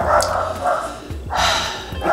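A house dog barks at neighbors working in the yard next door, a few loud, close woofs spaced across the moment, each sharp and full, with no talk over them.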